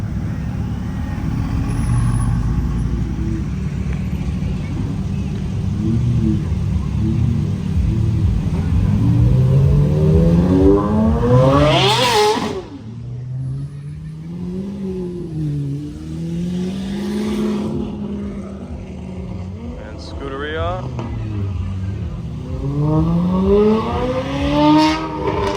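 A Porsche Carrera GT supercar engine at a car show, a loud, near rumble that climbs in revs, drops abruptly, then rises and falls again in a few shorter revving sweeps.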